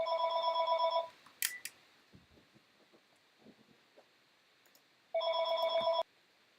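A telephone rings in an office setting, one electronic ring at the start and another near the end, with quiet rustling and faint handling noises between them.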